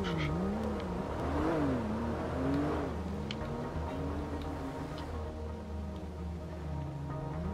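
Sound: car driving nearby in the video game GTA Online

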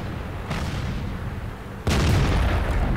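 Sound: tank gun shot in World of Tanks video game

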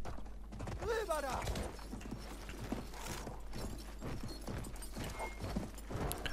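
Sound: horse hooves in video game Battlefield 1

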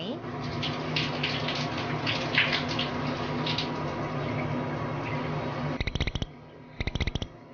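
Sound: water splashed to test waterproof makeup

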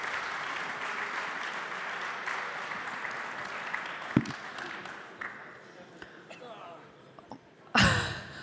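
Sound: audience applause

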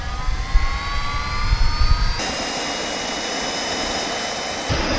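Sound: turbojet engines on a bicycle igniting and running

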